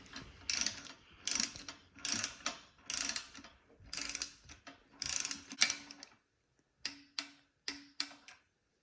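A torque wrench ratchets on Hemi oil pan bolts, crisp clicking bursts in repeated rhythmic strokes close by, a longer run of steady strokes followed by a brief pause and several shorter, separated pulls, with no talking.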